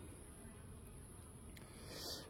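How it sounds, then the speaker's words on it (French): Honeybees hum faintly in a beehive around a caged queen, a low continuous buzz lying under a quiet background with no speech. "Normalement les abeilles vont venir la voir rapidement"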